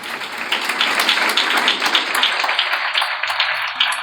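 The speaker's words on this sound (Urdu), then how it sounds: "یسوع کا جلال کے لیے زوردار تالیاں۔" A church congregation gives loud, sustained applause, a dense crowd of clapping hands that carries evenly for several seconds.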